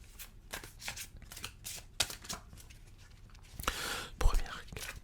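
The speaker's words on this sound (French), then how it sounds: "Alors, déjà dans ce paquet, première carte." A card drawn from a deck, with rustling and flicking card sounds close by, a louder sliding shuffle near the end, and soft whispering speech throughout.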